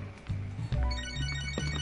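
A phone rings in the video game Catherine: Full Body, a loud, close electronic ringtone with repeating tonal bursts that plays alone with no talk over it.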